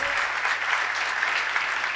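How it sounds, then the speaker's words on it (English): A hall audience at a breast cancer screening and awareness drive gives the Rizvi Education Society's president a round of applause in Mumbai, a dense, steady wash of many hands clapping without letup, with no voices on top. "we all need to give a round of applause to your president"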